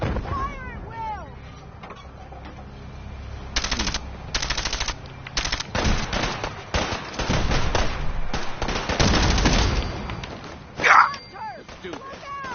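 Gunfire defending the gate in Fallout 4's Far Harbor: bursts of automatic fire come in clustered volleys across the clip, with shouting voices in the background and a loud thump near the end.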